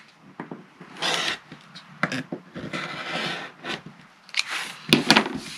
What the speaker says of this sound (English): the first thing you want to do is trim off that corner, make it nice and even